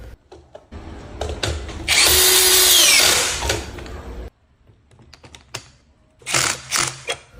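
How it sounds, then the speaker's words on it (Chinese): A handheld cordless drill fitted with a breaker-specific bit tightens terminal screws on a household circuit breaker, giving a loud, sustained whir followed later by shorter bursts, with clicks and handling noise between and no talk. "也可以用这种手电钻来紧螺丝。"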